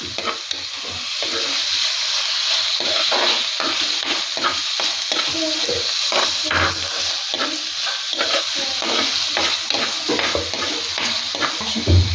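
Tomatoes go into a mackerel curry and get stirred, giving a steady loud sizzle with repeated scraping strokes of the spoon throughout, close and without talk.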